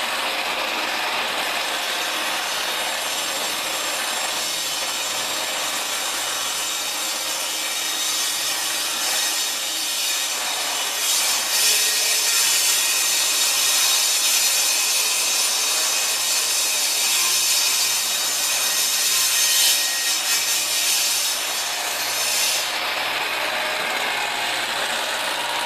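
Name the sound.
table saw ripping Macassar ebony wood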